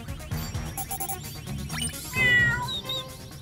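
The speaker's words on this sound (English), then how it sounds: "Guys, I'm picking up bird and cat sounds coming from the park." A cartoon cat meows in a park setting, giving several clear, drawn-out cries. Bright effects and background music play around the meows, and a louder burst comes near the end.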